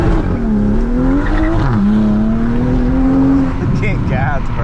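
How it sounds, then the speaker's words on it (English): A 500 hp 2022 Toyota Supra engine drones loud and close, its steady tone rising and falling as the tires spin without grip, with a voice talking over it at night. "And I was spinning, no traction."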